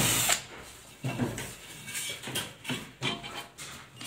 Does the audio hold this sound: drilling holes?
yes